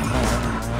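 Tires squeal as a car drifts in TC Motorfest, a short, loud, continuous screech over the engine's drone.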